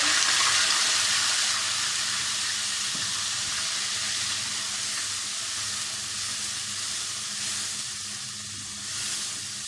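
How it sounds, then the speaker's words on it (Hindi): Chopped onions dropped into a pan of fried cumin seeds for a masala beef sauce, giving a steady, close sizzle and crackle with faint stirring, no talk. "ये हमारा जीरा फ्राई हो चुका है। अब हम इसके अंदर ये प्याज डाल लेते हैं।"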